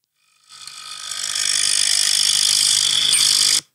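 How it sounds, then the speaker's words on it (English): Espresso machine running alone, a bright hissing steam-like whoosh that swells up over a second, holds steady and loud for about two seconds, then stops abruptly. "It is an espresso machine"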